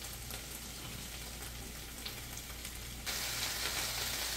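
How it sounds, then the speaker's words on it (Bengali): Bok choy greens frying in a pan for a soup, a steady close sizzle throughout that grows louder and brighter in the last second or so, with no voices. "শাকটাকে আমি অল্প ভেজে নেব, সামান্য,"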